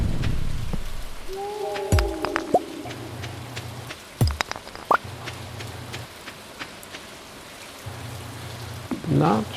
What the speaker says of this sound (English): Not sure how I feel about these rainy days in the game.